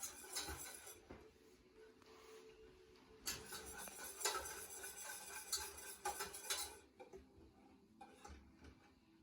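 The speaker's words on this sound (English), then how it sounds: "whisking this into a paste. Going to whisk this and allow it to thicken into a dark roux" A whisk scrapes and clinks against a pot while flour and fat are stirred into a dark roux, a quiet irregular clatter with several sharper metallic taps.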